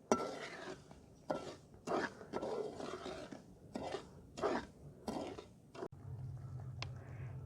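A spoon moves through sugar syrup cooking in a pot for sweet zarda rice, making soft scraping swishes that come and go in uneven strokes, close and fairly quiet, with no talking.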